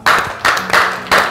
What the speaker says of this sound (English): Can we give her a Kwasasa clap?